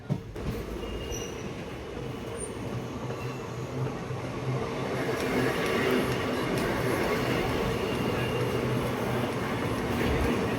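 A Sealdah–Jangipur Express train runs at steady speed on a nonstop stretch from Barrackpore toward Naihati, with continuous close rumble and wheel-on-rail clatter, rising slightly louder partway through, with faint squealing tones above.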